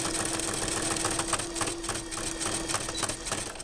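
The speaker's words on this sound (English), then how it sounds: "sew down the side with a zigzag stitch as if you were using a serger" A sewing machine runs a zigzag stitch down the side of a Capri Sun juice pouch, giving a continuous close motor hum with fast, even needle chatter and no voices.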